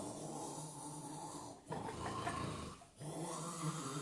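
A voice imitates the snoring of Jonah from the Bible with a loud, rasping inhale lasting over a second, set against a steady background hum.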